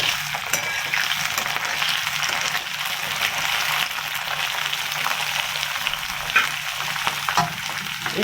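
Capsicum frying in a pan with oil, a loud, steady sizzle with scraping stir sounds throughout, close and continuous, with no talk.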